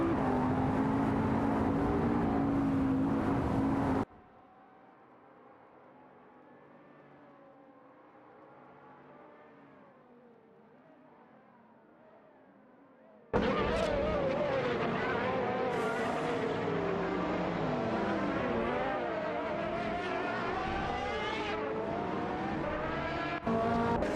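Race cars in an AI-run racing video game roar past with engine revs and tire noise, loud at the start, dropping to a muffled hum for several seconds, then surging back loud and sustained.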